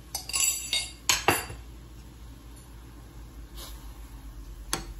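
A tablespoon scoops tea leaves into a pot for milk tea sweetened with date-palm jaggery, giving a few bright metallic clinks and scrapes early on, then quieter handling with one more clink near the end.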